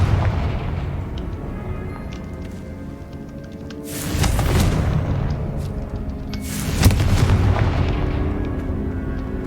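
Two heavy fiery blasts from the Confringo fire spell in the video game Hogwarts Legacy, each a loud booming burst with a rumbling tail, landing about three seconds apart over steady game ambience.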